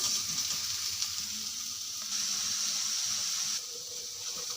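Soya chunks frying in hot oil with turmeric, chilli powder, salt and cumin, a continuous bright hiss and sizzle held at an even level, dipping slightly near the end.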